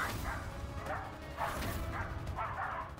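Several dogs bark and yip in repeated bursts over a steady background din, sounding like a pack nearby.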